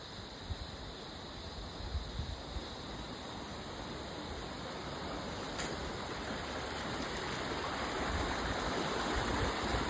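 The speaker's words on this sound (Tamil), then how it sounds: "இது மாணிக்க கங்கை பாருங்க" The Manikka Ganga river flowing at Kataragama, Sri Lanka, a steady close rushing of water that builds slightly louder throughout, with no talking.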